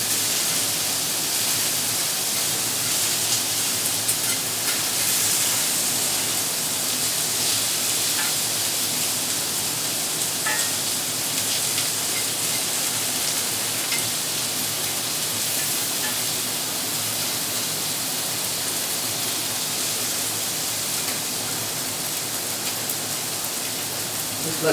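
Wagyu beef sizzles steadily in a hot pan, a dense, even crackling hiss that holds unbroken at close range with no voices over it.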